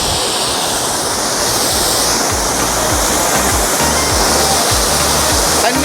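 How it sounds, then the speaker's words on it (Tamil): Waterfall near a small cafe in Munnar, Kerala, roaring steadily and close by, a dense continuous rush of falling water with no voices over it. "நீர்வீழ்ச்சியா அருமையாக இருக்குது"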